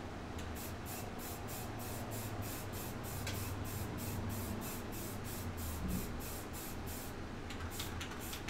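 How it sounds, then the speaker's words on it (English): Spray paint being sprayed white onto an object: a run of short, evenly paced hissing bursts from an aerosol can, close and fairly quiet, with no one talking. "I'm gonna spray paint this white"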